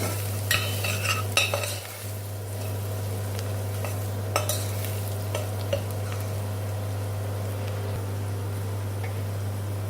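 A spoon scrapes and stirs red chili, coriander and turmeric through a sizzling pan, with a few metallic clinks over a steady low hum.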